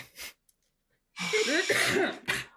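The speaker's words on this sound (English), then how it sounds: "I cough to cover it up." A short cough, then a longer, rasping throat-clearing cough followed by one more brief cough, close and fairly loud.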